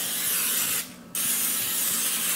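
Canola oil sprayed from a can onto beef ribs being seasoned, a single short hissing burst of about a third of a second, close and clear against steady background noise.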